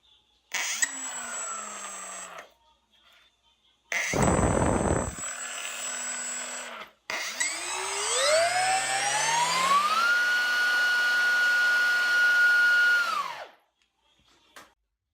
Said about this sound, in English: I made sure that the impeller was spinning in the right direction.